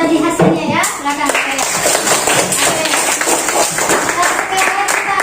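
A classroom of children claps for the results of their presentations, brisk uneven bursts of applause up close with children's voices mixed in.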